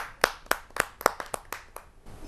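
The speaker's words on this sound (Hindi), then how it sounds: "सुरेश जी मैं आमंत्रित करता हूं उनको आप सबकी जोरदार तालियों के माध्यम से" Scattered handclaps from a small audience at a Hindi poetry gathering, about nine distinct claps spaced unevenly over two seconds, fairly faint and crisp with no talk.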